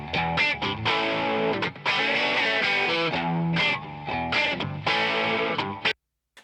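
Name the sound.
processed electric guitars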